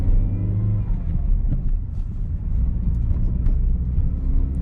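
A Peugeot 207 with a 1.4 petrol engine drives along a road on a test drive after a clutch change, giving a steady, loud low rumble of engine and road noise.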